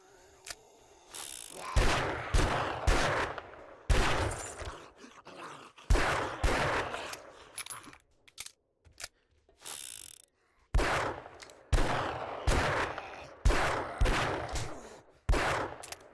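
Gunfire in 7 Days To Die: repeated sharp shots and short rapid volleys, each with a decaying echo, spread across the stretch with brief silent gaps between groups.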